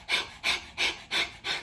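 A heavily pregnant dog pants rapidly just before labor, five even, breathy huffs in a steady rhythm, close and clear with no talk.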